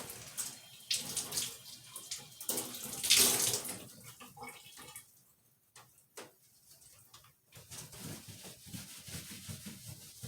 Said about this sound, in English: I cut that water on in my shower.